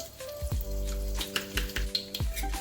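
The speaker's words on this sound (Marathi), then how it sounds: "आता यामध्ये मी लसूण, थोडीशी कलोंजी," Garlic and kalonji seeds frying in two tablespoons of hot oil for a tempering, a soft close sizzle with scattered crackles and light clinks, fairly quiet.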